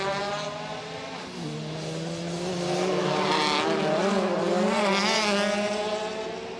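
A Citroen touring race car on a qualifying lap at Marrakesh, its engine howling at high revs and rising and falling through the gears, loud and steady with no voices.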